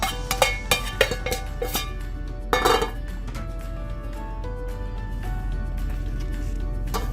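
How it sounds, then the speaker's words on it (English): Utensils scraping and clinking against a metal frying pan on a kitchen stovetop during burrito cooking, a run of sharp metallic knocks and scrapes up close, then a steady background hum. "Let's clean the pan out."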